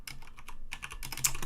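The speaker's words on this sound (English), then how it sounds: "Why am I typing so bad?" Quick bursts of typing on a computer keyboard, close and clicky, with a short pause midway before the keystrokes resume rapidly.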